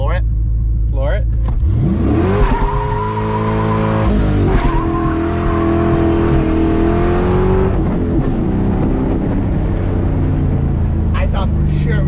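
An LS-swapped Chevrolet Colorado roars at full throttle on a dyno, the loud, close engine note climbing and holding high before dropping back to a rumbling idle.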